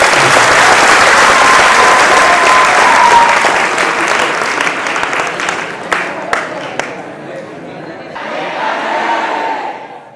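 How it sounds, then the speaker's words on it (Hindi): Loud, sustained applause from a seminar audience welcoming a speaker, dense clapping filling the room for several seconds before thinning into scattered claps and a murmuring crowd. "तो जोरदार ताली से स्वागत करें।"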